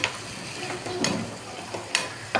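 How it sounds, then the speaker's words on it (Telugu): Onions frying in oil in a pan for a prawn fry, a soft continuous sizzle with occasional scraping stir strokes and light clinks, fairly quiet and with no talking. "ఆయిల్ వేసి ఆనియన్స్ వేపుతున్నాను."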